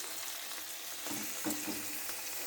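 Turmeric powder being stirred into fried onion, chilli and tomato in a pan, a brief close burst of scraping over a steady bright sizzle, with no voices.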